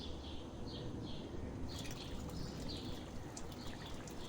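Egg and potato curry simmering in a pan with fried eggs added, giving a steady, close bubbling hiss with light crackles and no talking.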